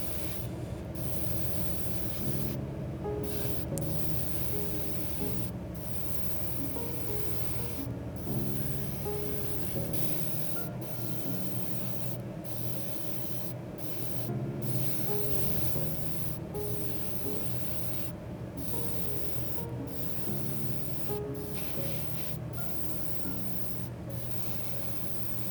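Gray primer sprayed onto the body of a Tamiya Porsche 911 GT3 RS scale model, a steady airy hiss running continuously with brief pauses, close and moderately quiet, no talking.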